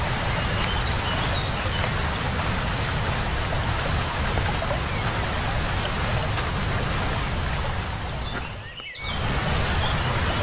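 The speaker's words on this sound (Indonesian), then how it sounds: "Kayaknya gue dengar suara gemericik air deh" A babbling mountain stream on Mount Sanggabuana rushes continuously, a loud, dense wash of flowing water that briefly dips near the end before resuming.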